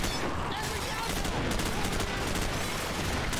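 Sustained automatic gunfire in Call of Duty 4: Modern Warfare, rapid continuous shots forming a dense wall of noise throughout, fairly loud with no clear pauses.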